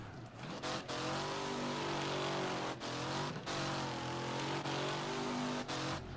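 A 605 HP modded car in the Wreckfest racing game drones with a loud, sustained engine note while drifting around a track, revs rising and dipping with a few brief cuts in the roar.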